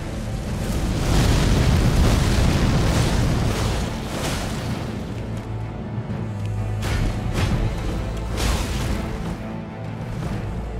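Roaring, crackling fire attack from a boss in Elden Ring: Shadow of the Erdtree, a loud continuous rumbling blaze with repeated booming bursts throughout, no voices.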